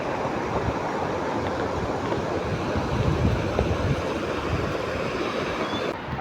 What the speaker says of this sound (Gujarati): પણ અહીંયા પાણીનો પ્રવાહ વધી ગયો છે.